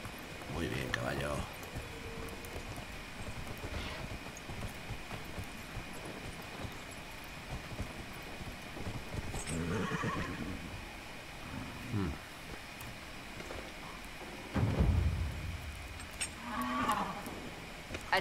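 Horse in the Dragon Age Inquisition video game, hooves and snorting or neighing over a busy game soundscape, fairly loud and continuous, with a person talking over it.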